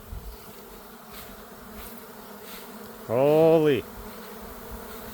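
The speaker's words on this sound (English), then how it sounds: "I'm surrounded by bees right now." Honey bee swarm buzzing around outdoors, a sustained high insect drone with one loud close pass of a bee near the microphone, and a brief spoken exclamation.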